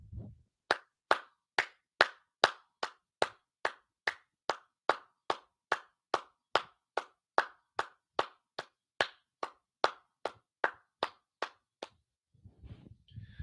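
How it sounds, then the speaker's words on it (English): A single pair of hands claps slowly and evenly, roughly two claps per second, about twenty-three close, crisp claps with silence between, in a talk-show studio for guests; a brief murmur follows at the end. "give these gentlemen a round of applause"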